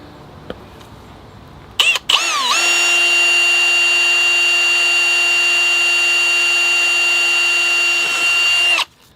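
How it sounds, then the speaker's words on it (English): A cordless power drill drills a drainage hole in a bonsai pot, whirring up, then spinning at a steady high-pitched whine for several seconds before stopping, loud and close. "I've got my drill. I think just somewhere right in the middle would be a good place to drill."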